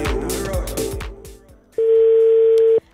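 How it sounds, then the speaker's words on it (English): A telephone call tone sounds on a Lagos radio show: after a few seconds of clattering and talk, a single steady electronic tone holds for about a second, loud and clean. "It's ringing."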